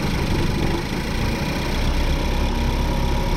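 Steady idle of a 2014 Ford Focus engine after throttle body work, a continuous, close mechanical drone with even hum and no speech.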